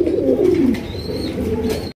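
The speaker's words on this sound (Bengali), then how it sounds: "দর্শক এখানে রয়েছে বিশাল সাইজের একজোড়া গোল্লা কবুতর" A large pair of Golla pigeons on a farm coo nearby, a deep, throaty rolling coo rising and falling through two seconds, with faint background noise.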